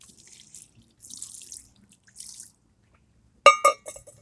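Water is poured onto an orange Furby Connect toy, giving a short, close splashing burst after soft hissy trickles and near silence.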